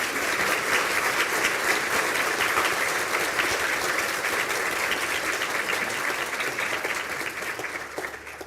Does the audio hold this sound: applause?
yes